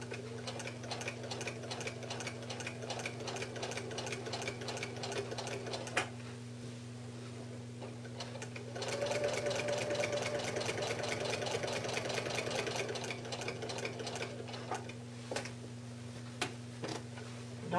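A domestic sewing machine runs continuously while stitching a quilt, with a steady motor hum and rapid needle ticking that briefly pauses and then resumes a little louder.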